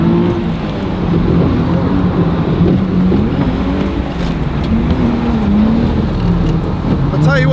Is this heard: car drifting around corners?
yes